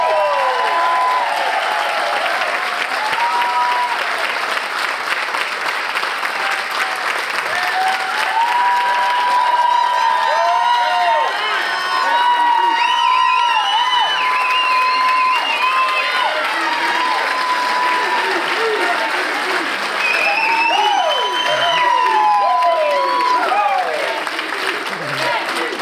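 A large crowd applauds, cheers and whoops at a celebration honoring a professional bass fishing tournament career, with sustained loud clapping and scattered shouts filling the whole stretch.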